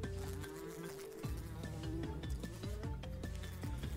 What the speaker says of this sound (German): Sparks klingt irgendwie gerade wie so eine Wespe oder sowas